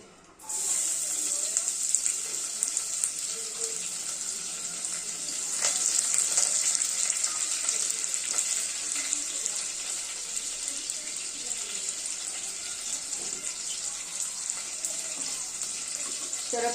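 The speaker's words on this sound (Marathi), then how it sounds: "आता तेल आपलं गरम झालेलं आहे आता मी यामध्ये घालते कांदा आणि कढीपत्ता" Onion and curry leaves dropped into hot oil for misal, a sudden loud sizzle that settles into a steady bright crackling hiss, close and continuous throughout.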